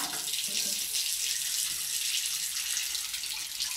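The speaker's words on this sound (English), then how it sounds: "just switch off your cold water and let the water run" Water running from a tap after the cold supply is switched off in an air-locked hot water system, a steady hissing splash that continues evenly from start to end.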